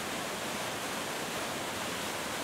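Steady, full-band rush of water from a stream and artificial waterfall in a park, a continuous even roar with no breaks and no other sounds standing out.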